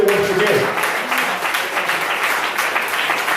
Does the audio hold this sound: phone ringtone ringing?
no